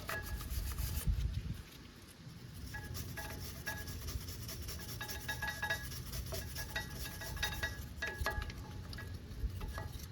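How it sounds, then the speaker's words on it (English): A brush scrubs steadily at the brake caliper of a 1996-2002 third-generation Toyota 4Runner where the pads seat, giving a continuous close rasping scrape with small metallic clinks. "we're going to brush down on the portion of the caliper where the brake pads interact with the caliper"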